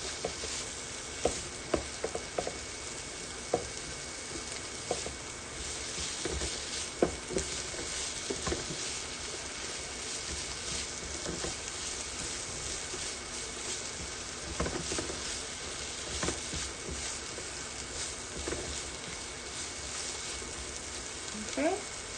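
Bacon or pancetta frying in a pot for Lancashire hotpot, a continuous low sizzle with scattered pops and stirring clicks throughout.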